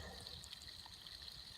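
Spring water trickling from a camp faucet into a small pool outdoors, a soft steady gurgling wash with no voices.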